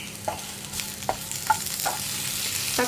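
Tomatoes stirred into a frying masala for Kerala-style okra (vendakka) curry, a soft continuous sizzle punctuated by several rhythmic scrapes and taps of a spoon against the pan, with no talking.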